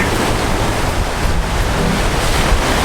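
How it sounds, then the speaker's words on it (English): Waves wash onto a beach along the Cagayan de Oro seaside, a loud, continuous surf with wind buffeting the microphone throughout and no talking. "And then there is another beach."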